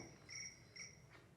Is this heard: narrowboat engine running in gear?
no